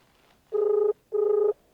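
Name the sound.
telephone ringing during a phone call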